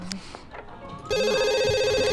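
A telephone rings in The Sims 2, a steady electronic ring tone that starts abruptly partway through and continues loudly to the end, preceded by soft game ambience.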